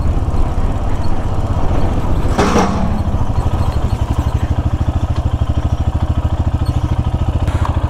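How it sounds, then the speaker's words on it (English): A small-CC single-cylinder motorcycle rides along Lincolnshire B-roads, its engine thumping in a steady, close pulsing rhythm under wind noise, with a brief louder swell partway through. "Everybody just on small CC bikes, little thumpers like this."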